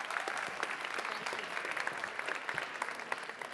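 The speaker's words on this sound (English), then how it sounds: "A big round of applause, please." Applause from a keynote audience as the speaker comes to the stage, an even wash of clapping sustained throughout at moderate, somewhat distant level.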